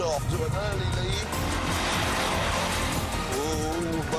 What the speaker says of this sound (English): the petrol car has roared off to an early lead